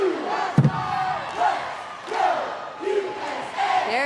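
A coed premier cheerleading team shouts its opening cheer at the ICU World Cheerleading Championships in 2022, a few rhythmic group bursts in an arena, moderately loud with a sharp clap near the start.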